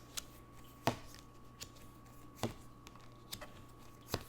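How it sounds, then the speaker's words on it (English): Tarot cards drawn from a deck make soft, sparse flicks and snaps, a handful of short crisp clicks spaced a second or so apart over a quiet room background, no one talking. "I'm just going to pull the cards"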